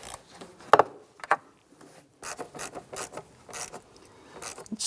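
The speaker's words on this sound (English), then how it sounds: "Tighten down the hose clamp for the air box" A hose clamp on the air box of a 2011-2021 Jeep Grand Cherokee is tightened with a hand tool, giving close, faint clicks and scraping mechanical rasps in short irregular bursts.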